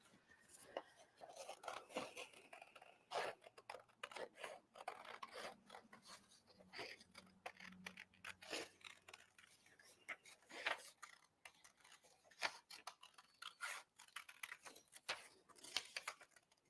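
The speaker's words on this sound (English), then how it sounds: "scissors, and cut out this template." Quiet, repeated snipping and rustling of scissors cutting out a paper template, with soft irregular clicks and faint handling noise.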